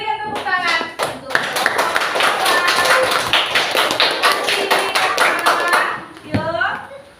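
Schoolchildren in a classroom clap for a student group, a dense burst of many hands lasting several seconds and fading at the end, with a teacher's voice and children's voices around it.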